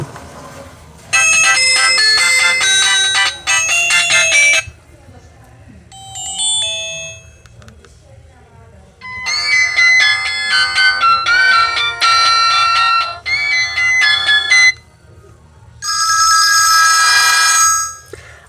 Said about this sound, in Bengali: চলুন দেখা যাক যে এই ফোনটির রিংটোনের সাউন্ড কেমন ছিল